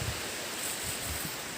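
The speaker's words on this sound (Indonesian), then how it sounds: "bisa dengar sendiri di daerah Bakau ini angin sangat" Strong wind blows through a mangrove area by a river, a steady broad rush with low gusty rumbles buffeting the microphone, continuous and fairly loud.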